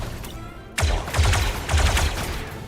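Blaster fire in the video game Star Wars: Zero Company, a sudden loud burst followed by rapid overlapping shots in quick volleys, close and punchy over faint background game sound.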